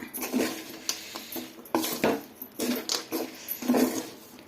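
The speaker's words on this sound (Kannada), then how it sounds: "ಇವಾಗ ಇದನ್ನೆಲ್ಲ ಸೇರಿಸಿ ಚೆನ್ನಾಗಿ ಮಿಕ್ಸ್ ಮಾಡ್ಕೊಳ್ಳೋಣ" Spoon scraping and clattering against a pan while MTR puliogare mix is stirred together with peanuts, a run of close, irregular metallic scrapes and taps with no talk.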